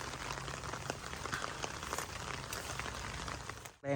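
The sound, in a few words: heavy rain falling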